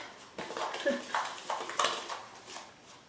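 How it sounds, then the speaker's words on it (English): A utensil stirs gelatin, baking soda and cornstarch together in a bowl, giving a series of light irregular clinks and scrapes of moderate loudness. "So what I do is just mix it all together, and I'm actually doing that right now."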